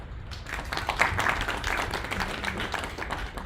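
Sustained applause from an audience at a national conclave, honouring the India Achievers Forum's 25 years of achievement. Dense, steady clapping fills the room, fairly close and unbroken for several seconds.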